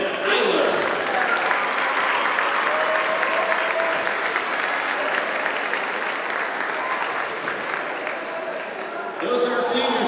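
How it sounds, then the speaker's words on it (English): A high school basketball crowd in a gym applauds the LCA seniors, a loud, sustained wash of clapping and cheering that holds for about nine seconds before easing as a voice comes in. "Let's have one more round of applause for your LCA seniors"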